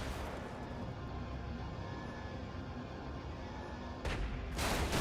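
Turret fire in the Brigador video game: a dense, continuous rumble of rapid gunfire and booms, steady and loud, swelling into brighter, harsher blasts near the end.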